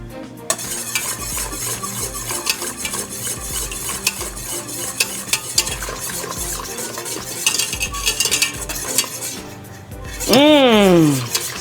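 A boiling sauce in a pot stirred with a utensil, bringing repeated scraping clinks over a bubbling simmer, with a person talking throughout and a brief rising whine near the end.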